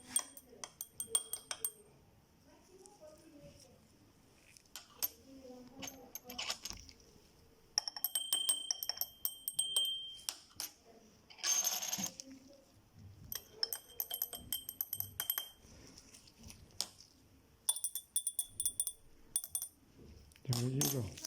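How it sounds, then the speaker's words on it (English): Glass lab containers holding colored liquids for a density experiment, stirred so that utensils repeatedly clink and tap against the glass in bright, irregular bursts, with a voice talking quietly in between. "We're going to stir them a little bit."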